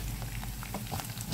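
A rice cooker bubbling at a boil, a steady close wash of soft popping and pattering bursts with no talk.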